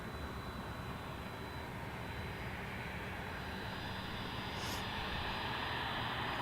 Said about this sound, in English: we've got a little Cessna arriving